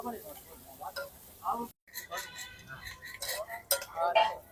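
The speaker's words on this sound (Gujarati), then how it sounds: "થોડી વાર ફ્રાય થવા દેશું" Food frying in a pan for pav bhaji, with light sizzling under clinks and scrapes of a utensil against the pan and a few stirring sounds, close by, broken by a brief cut partway through.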